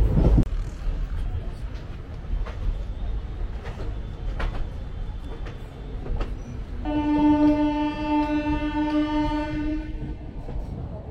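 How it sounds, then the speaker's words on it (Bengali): A train departs Jhalida station amid station bustle, with a long, loud horn blast sounding in the latter half over low rumbling and scattered clanks, and people talking in the background. "ট্রেন ছাড়লো ঝালিদা স্টেশন"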